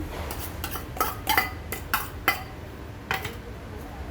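Guacamole ingredients are mixed in a bowl with a utensil, giving a run of close, irregular clinks and scrapes against the bowl with soft pauses between the strokes.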